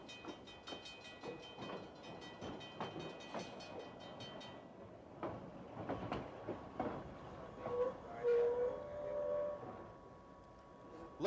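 Freight trains shunt around a rail yard, with repeated rhythmic wheel clatter and clanking at moderate distance, followed by a faint horn or whistle tone near the end.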